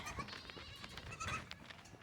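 Goats bleat on a homestead, several short wavering calls rising over soft rustling and faint farmyard noise, fairly quiet and at a slight distance.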